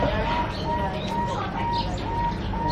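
A zebra dove (perkutut) coos in a steady rhythmic series of soft, clear notes close by, with a few faint chirps behind it and no talk.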